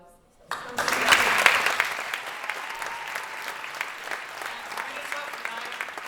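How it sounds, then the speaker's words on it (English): Audience applause at a Charlie Brown musical begins sharply after a brief quiet start, swells, then settles into steady, fairly close clapping that continues to the end. "we also wanted to give them a round of applause"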